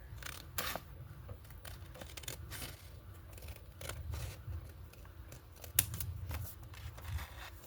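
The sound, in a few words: scissors cutting paper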